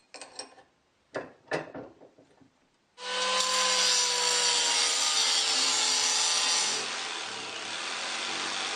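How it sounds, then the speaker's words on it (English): Cutting a keyway into a wooden step pulley for a homemade lathe: a few short scraping strokes, then a loud, sustained close-up power-tool cut with a steady whine. "I'm going to cut a keyway right here"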